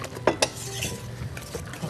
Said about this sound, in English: you whisk that in